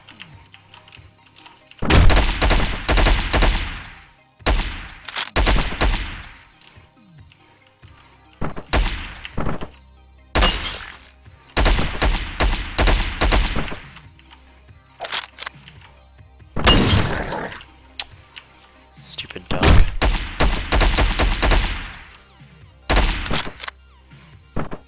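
Video game gunfire in bursts of rapid shots, loud and close, separated by short pauses, no talk over it.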